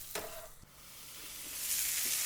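Sausage, onions, peppers and mushrooms sizzle on a Coleman Roadtrip grill, a steady close frying hiss with a short clatter near the start and the sizzle swelling toward the end.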